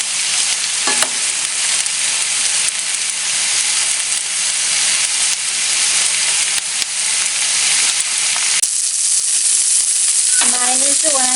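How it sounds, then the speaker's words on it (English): An onion cake sizzles loudly in hot oil, a dense and constant frying hiss with occasional pops, while brief voice-like tones cut in near the start and toward the end. "so let's enjoy the sizzle real quick."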